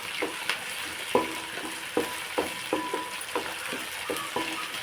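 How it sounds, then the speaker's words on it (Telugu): Onion paste frying in a pan, a soft steady sizzle broken by regular stirring scrapes and taps, close and moderately loud, no talk. "ఇంకా కొంచెం ఆనియన్ పేస్ట్ ఇలా వేపేసుకుని"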